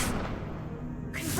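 Wingardium Leviosa levitation spell cast in Hogwarts Legacy, a soft airy whoosh with a faint swishing sweep lasting about a second, clear and alone without speech.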